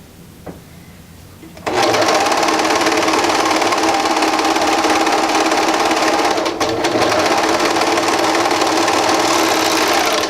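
A sewing machine stitching a seam in faux fur knit fabric starts up after a brief quiet moment and runs steadily, its fast mechanical whir stitching continuously with a slight hitch partway through.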